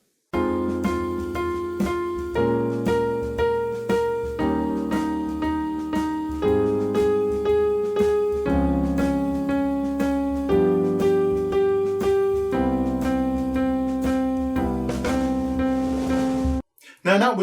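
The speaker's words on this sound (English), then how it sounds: "you could just play quarter notes with the root of the chords, and it would sound something like this" Steady quarter notes pluck the root of each chord in a simple beginner improvisation pattern, an even pulse of clear tones shifting pitch as the chords change, ending abruptly.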